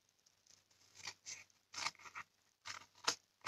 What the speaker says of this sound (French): On va juste venir donner un coup de ciseau ici et ici.